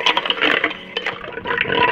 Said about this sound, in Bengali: আর আমি বরফটাকে দিয়ে ভালো করে ফেটে নিয়েছি।